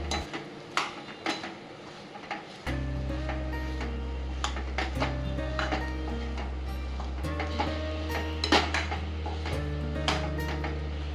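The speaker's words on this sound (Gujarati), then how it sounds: "હવે આ બધી વસ્તુને બરાબર આપણે મિક્સ કરી લઈએ" A spoon scraping and clattering in a pot while boiled potatoes and masala dosa filling are mixed, irregular metallic knocks and stirring over a low steady hum from the kitchen.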